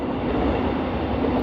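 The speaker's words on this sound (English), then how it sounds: "So here comes another train." A train passes nearby at a Melbourne station during morning peak hour, a loud, steady rumble of wheels and cars filling the whole short stretch without a break.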